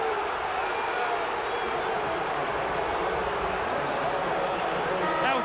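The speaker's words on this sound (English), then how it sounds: "Listen to the crowd." A big indoor basketball arena crowd roars after an offensive foul call in a 1989 Chicago Bulls vs Cleveland Cavaliers game, a steady, dense wash of voices holding for several seconds without a break.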